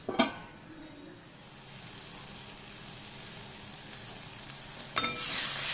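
Onions and tomato sautéing in a pan for a Kerala-style beef curry, a soft steady sizzle with sharper clatters of stirring at the start and end.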